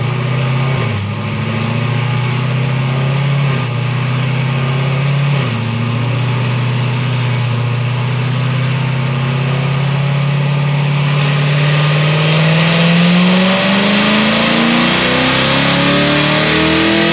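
A Stage 5 Corvette C7 Z06 fitted with a Magnuson 2650 supercharger revs on a dyno, its loud, steady engine roar rising in pitch through a long sustained pull with a blower whine on top.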